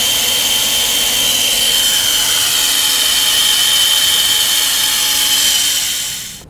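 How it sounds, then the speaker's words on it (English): A small, overheating battery electric drill priming the engine oil pump of a 1968 Winnebago whirs continuously at high speed, steady and close, then cuts off abruptly near the end. "It's overheating my little tiny drill."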